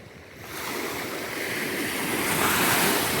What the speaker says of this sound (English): The waves are pretty big.